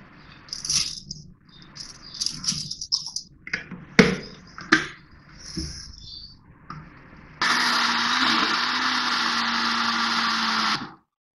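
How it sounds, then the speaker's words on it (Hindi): An electric blender whirs loudly and steadily for about three and a half seconds as it purees peeled mango with sugar, preceded by clattering and knocks of ingredients going into the jar. "अब इसको ब्लेंडर में डालूंगी।"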